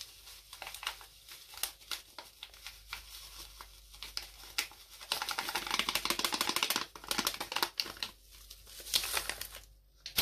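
Descaling powder fizzing in water inside an electric kettle, a close crackling and popping hiss of bubbles that builds into a dense burst before settling, with no talking.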